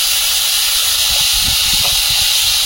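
Potatoes hit hot oil in a wok with a loud, steady sizzle, a broad hissing roar holding for a few seconds, close and without any voices.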